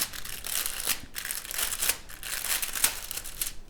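Plastic packaging bag from a sewing kit crinkling and crackling as it is torn open, a continuous close, loud rustle with sharper bursts throughout and no talking.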